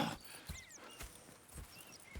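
Horses clip-clop at a slow, steady walk in a Red Dead Redemption 2 camp, faint hoof strikes about every half second with bird calls above and no talk.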